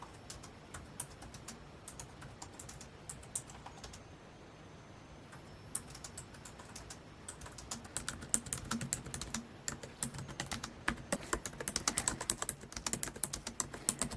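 Fingers type steadily on a computer keyboard during a writing session, rapid close clicks and key taps in irregular bursts with a brief lull, growing busier and denser toward the end, no voices.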